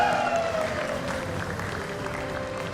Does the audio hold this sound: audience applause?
yes